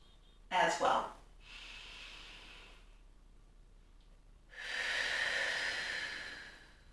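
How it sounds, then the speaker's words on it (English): Deep breathing during a Pilates exercise: a sharp noisy inhale, then a long soft exhale, and later a louder drawn-out breath, with quiet gaps between them. "Once we've done our breathing,"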